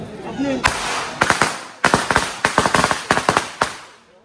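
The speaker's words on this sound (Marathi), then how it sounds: "झाले बॉम्ब" Firecrackers bursting during a Ganpati immersion in Konkan, a loud nearby series of sharp cracks in irregular rapid bursts over a short stretch, with a voice briefly heard at the start.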